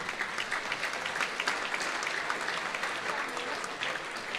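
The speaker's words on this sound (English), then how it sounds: "Big round of applause for Anthony." Steady, fairly loud applause from a crowd at a cancer research charity dinner dance, dense clapping sustained throughout the few seconds with no voices over it.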